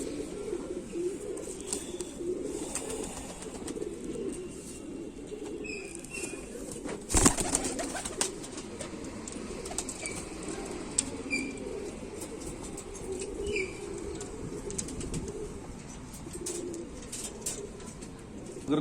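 Kamagar pigeons of the Kante-wale and Jhumke-wale types coo softly and steadily nearby, with wing flapping and a sharp flutter burst partway through, over a constant low ambient murmur.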